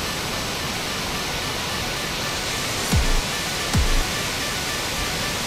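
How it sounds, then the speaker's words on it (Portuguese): Waterfall on Iceland's south coast, a steady, loud, broad rushing roar of falling water heard close up, with two brief low thumps partway through and no talking. "E cheguei aqui nessa cachoeira, mas é simplesmente assustadora a coisa aqui."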